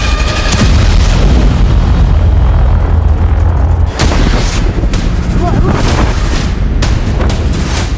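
A huge explosion at the Beirut port, a sustained loud, dense roar with rumbling low-end that fills the whole stretch, with a sharp disturbance midway and continued heavy booming afterward.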